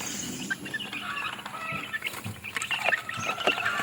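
Six-day-old backyard chicks peep and chirp in a busy, overlapping chorus, the calls close and fairly loud with soft clucking mixed in.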